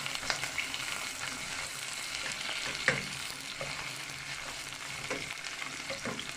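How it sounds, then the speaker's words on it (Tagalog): Onion and garlic sauté in hot oil in a pan, a steady quiet sizzle with occasional light stirring taps and scrapes, heard close with no talk. "Ilagay natin ating sibuyas at ang bawang."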